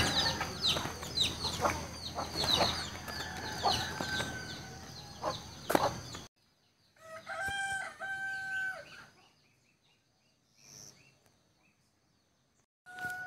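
A rooster crows in short bursts, then pauses, with scattered clucking from nearby chickens and some outdoor rustling.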